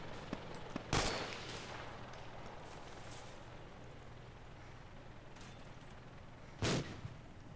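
Two loud, sharp rifle shots with heavy recoil from the ArmA 2 game, about five seconds apart. Each crack rings out over a steady, low background hum.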